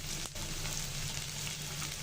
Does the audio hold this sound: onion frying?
yes